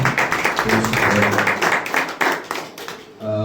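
Indoor church congregation clapping in welcome, a dense burst of applause that tapers off near the end as a voice begins.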